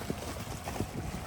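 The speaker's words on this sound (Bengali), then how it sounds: "তীরে এসে এই ঢেউগুলো কিভাবে আছড়ে পড়ছে একদম।" Waves wash against the shore of the Padma river at night, a continuous close rush of churning water with low thuds and wind noise over the microphone.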